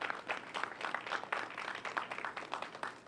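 Audience at the StoryCorps Mobile Tour kick-off event in Fresno giving a fairly faint round of applause, scattered clapping with irregular bursts that rise and dip across a few seconds.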